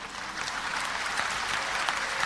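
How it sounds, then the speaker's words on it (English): An audience claps through a debate, a dense, even roar of many hands kept up at full volume the whole time, with no speech on top. "you're clapping"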